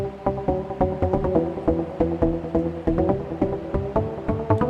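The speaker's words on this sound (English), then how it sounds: "Let me close the filter." A layered synth lead in an FL Studio dance track with its filter closed, sounding muffled and dull, pulses in quick rhythmic notes over a dense, busy mix with no talking.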